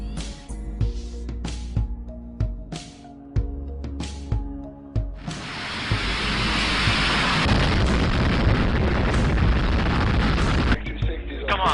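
Rapid gunfire and booming blasts from a firefight, sharp reports at first and then a long sustained roar of fire and explosions, with someone shouting over the noise.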